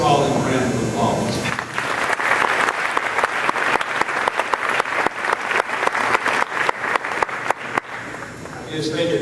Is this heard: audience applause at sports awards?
yes